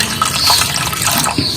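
Water being strained off grated potato in a home kitchen while making starch, a brief continuous splashing, trickling pour, close and alone.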